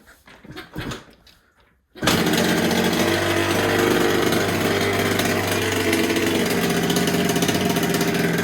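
A Derbi moped engine fires after a kick start, a few soft mechanical clunks giving way to a loud, sustained, buzzing two-stroke run at steady revs, close to the bike.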